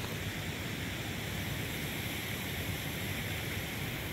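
A waterfall rushes steadily on a trek through Yousmarg toward Dragdolan and Bargam, a dense, unbroken roar of falling water that holds at an even level throughout.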